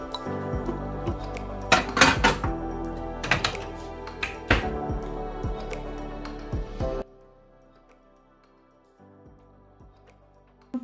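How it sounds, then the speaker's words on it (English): Dishes are put away in a home kitchen, with close clinks and clatters of plates and cutlery in an irregular burst for several seconds, then near silence with one faint knock at the end. "First, I have to pack away the dishes."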